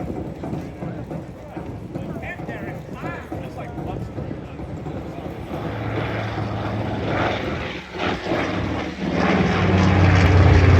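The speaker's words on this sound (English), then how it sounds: "Ladies and gentlemen, the level bomb pass, this is Panchito." A B-25 bomber named Panchito makes a level bombing pass at an air show, its propeller engine roar building steadily from moderate to loud as it approaches, with a commentator speaking over the noise.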